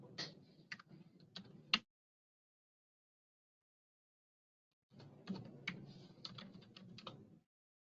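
Soft typing on a computer keyboard comes in two short bursts of light, quick key taps separated by a few seconds of silence, close and quiet with no voices.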